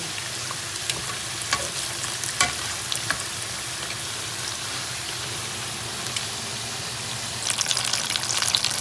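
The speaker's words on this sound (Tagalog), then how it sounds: "Prito lang siya." Steady, crackling sizzle of eggplant, tofu and other vegetables frying in hot oil in a pan, continuous and close, with sharper spits and pops near the end.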